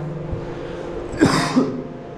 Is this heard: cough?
yes